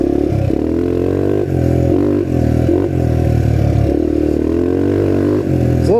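A restored trail bike, previously seized from a locked-up piston, runs steadily while being ridden, its engine a loud, close, continuous buzzing drone with slight dips and rises in pitch as throttle shifts.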